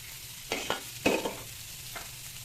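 Onions being stirred and fried in a pan, a few scraping stirs with short sizzling bursts, close and moderately loud, with quiet gaps between strokes.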